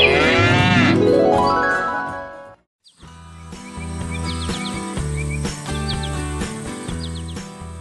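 Cartoon cows in a farm scene moo in long, drawn-out calls at first, then after a short silence more lowing continues over light bell-like chimes and chirps.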